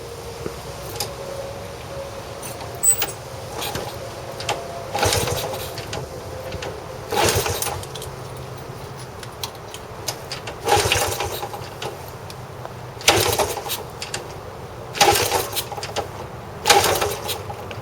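A Honda Trail 90 motorcycle, freshly cleaned out, is being started: repeated broadband bursts of cranking and sputtering engine noise recur every couple of seconds over a steady low idle-like rumble, fairly close.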